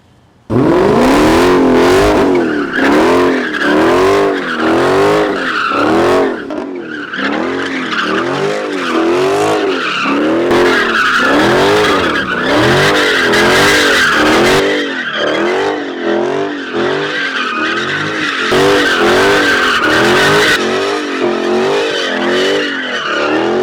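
A Dodge Challenger Scat Pack Widebody does a burnout, its V8 revving in repeated surges under continuous loud tire squeal and skidding, close and sustained throughout.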